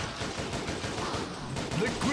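A heavy machine gun in the mobile shooter Unkilled fires in a continuous, dense burst, loud and close, with a voice faintly under it.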